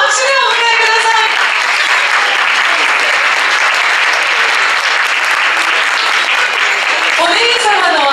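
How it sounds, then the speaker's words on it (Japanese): A crowd of wedding guests applauds loudly and steadily, with a voice speaking over the clapping near the start and end. "どうぞ皆様拍手でお迎えください。"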